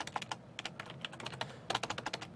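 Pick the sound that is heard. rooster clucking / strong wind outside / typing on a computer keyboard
typing on a computer keyboard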